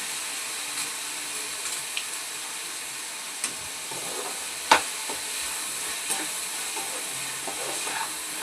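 Curry mixture with tomato and salt simmering and being stirred in a pan, a faint steady hiss throughout with a few soft scraping clicks of the spoon, no voices.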